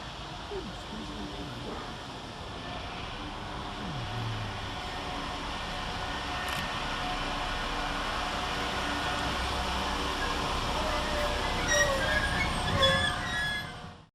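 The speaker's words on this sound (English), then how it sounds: "And here comes our train out of the tunnel" A diesel passenger train emerges from a tunnel and rumbles steadily closer into Birmingham Moor Street station, its noise building over several seconds with faint wheel squeals and clicks as it pulls in.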